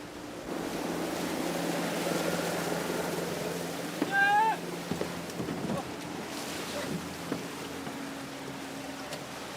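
A motorized pirogue, a dugout boat, drones steadily on a jungle river with water rushing along the hull, while a brief rising call or whistle cuts in partway through over the constant engine noise.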